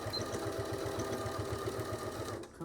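A sewing machine runs steadily at close range, stitching back stitches on a fabric artist case with a regular rapid needle thump, stopping abruptly near the end.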